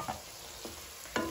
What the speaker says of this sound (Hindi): 2 मिनट इनको हाई फ्लेम पर पकने देती हूँ